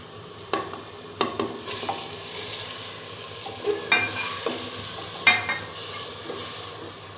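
Boneless chicken fries in masala in a handi, a steady sizzle with repeated scraping stirs and clinks of a spoon against the pot.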